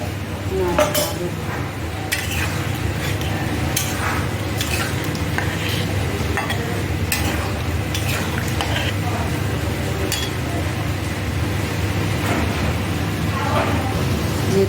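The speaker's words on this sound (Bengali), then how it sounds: "দিয়ে এটা থেমে থাকলে হবে না, ভালো করে নাড়তে হবে" Chicken Manchurian with added water is stirred in a frying pan, a soft bubbling sizzle running under repeated scrapes and clinks of a utensil against the pan, close and continuous, with a voice speaking now and then.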